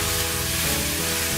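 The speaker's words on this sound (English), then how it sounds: "Just saute that and let it cook down." Smoked sausage with two bunches of green onion and a whole large yellow onion sautéing in a pan, giving a steady, close, continuous sizzle with no talking.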